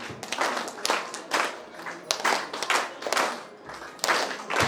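An audience at a Brahma Kumaris Deepawali gathering in Bahadurgarh claps in three rhythmic bursts, fairly close and moderately loud, with a faint voice underneath.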